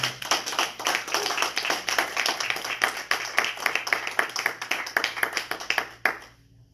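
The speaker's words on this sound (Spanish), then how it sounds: "den un aplauso al Señor en esta mañana." A church congregation claps together in a steady, fast rhythm, loud and close, with each hand strike distinct, then the clapping stops abruptly near the end.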